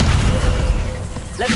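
A Hogwarts Legacy Incendio fire spell erupts as a low, rumbling boom that holds steady, then fades, with a brief flare of sound near the end.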